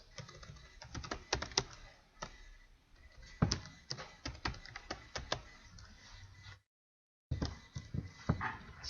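Rapid computer-keyboard typing of code, with irregular bursts of crisp key clicks close up and a brief silent gap near the end before the keystrokes resume.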